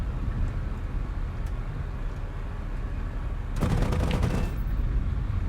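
Anti-aircraft gunfire in War Thunder's air simulation: a rapid crackling burst of flak fire breaks out over a steady engine drone for about a second, moderately loud, then the drone continues alone.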